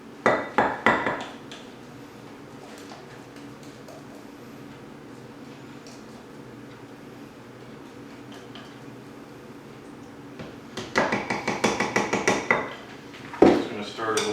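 Cornmeal pancake batter being mixed in a bowl with a whisk, a burst of quick rhythmic clinking and tapping at the start, a quiet stretch, then another run of rapid taps near the end, all close by.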